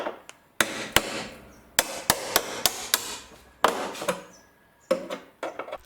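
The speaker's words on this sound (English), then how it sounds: "we're knocking some more apart with the chisel and the hammer" Sharp metallic hammer blows strike a chisel against a Mercury Sable's car body during rocker panel removal, in uneven bursts, some quick in succession, with brief pauses between clusters, close and loud.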